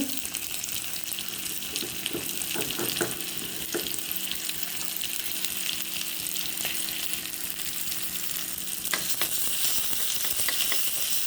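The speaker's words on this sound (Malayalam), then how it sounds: "ഇതൊന്ന് സോഫ്റ്റാകുന്നത് വരെ വറുത്തെടുക്കാം" Steady oil sizzle from chopped onion, green chilli, ginger and curry leaves frying in a pan, continuous and close, with occasional stirring clicks and scrapes, no talking.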